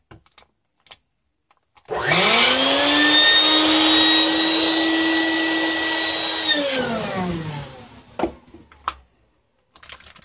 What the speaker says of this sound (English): It's going to get noisy here for a second as I remove the air from the bag here.